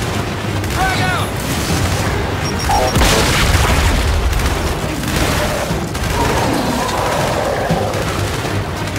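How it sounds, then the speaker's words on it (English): A frag grenade goes off in the video game Gears 5, a heavy booming blast near the three-second mark that rumbles on amid ongoing battle noise and gunfire, while voices call out over the action. "Frag out!"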